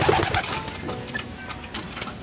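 Pigeons in a loft coo and flutter softly amid a busy, rustling background, with a few brief higher chirps over a steady low hum.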